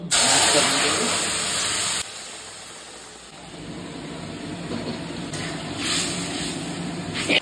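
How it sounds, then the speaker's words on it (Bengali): Dried red chili and cumin seeds hitting hot mustard oil give a loud spitting hiss that settles into a steady softer sizzle, with someone talking over it. "সরিষার তেল ফোড়নের জন্য দেবো একটা শুকনো লঙ্কা, দিয়ে দেবো জিরা।"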